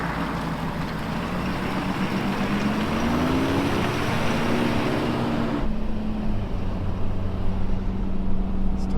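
A Toyota cruising on the highway at about 80 mph, with a steady road and engine drone and a low droning tone that rises slightly and holds. The roar stays constant throughout and changes character slightly partway through, with no talking.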